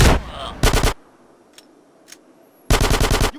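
Loud shotgun blasts from the video game GTA San Andreas in three close bursts, one at the start, one shortly after and one near the end, each a dense crackle of rapid reports, with faint clicks in the quiet gaps between.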